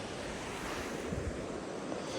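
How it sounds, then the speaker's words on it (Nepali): A river flows near a bridge at dusk with a steady, soft broadband rush of water, mixed with some wind noise and holding even throughout, with no voices. "ल केटा हो यही खोला है"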